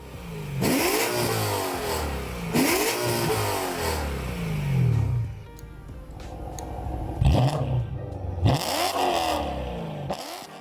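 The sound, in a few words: BMW E9x M3 V8 engine revving with Valvetronic exhaust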